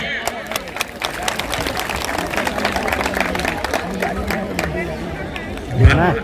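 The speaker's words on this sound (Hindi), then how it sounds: "तो मैं आपकी जोरदार तालियां बजनी चाहिए।" Crowd at a mass wedding ceremony clapping and applauding, a dense patter of claps mixed with chatter and hubbub, a voice speaking over it.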